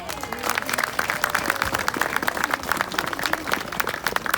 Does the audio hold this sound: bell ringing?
no